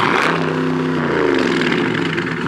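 Jeep Gladiator built as a military Humvee look-alike, its exhaust revved close by: a loud, continuous rumble with one quick rise in pitch midway before it eases back.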